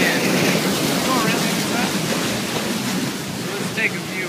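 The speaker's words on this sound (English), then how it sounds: "Here's our feed water coming in, pouring out of that top pipe, filling the gullet, and now filling the backwash" Seawater feed pouring from a top pipe into the gullet of a granular media filter during backwash, a continuous broadband rushing and splashing that stays close and loud throughout, with no talk.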